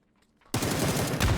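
Rapid automatic gunfire sprays in the PUBG video game, bursting in suddenly after a near-silent moment and continuing as a dense, loud stream of shots.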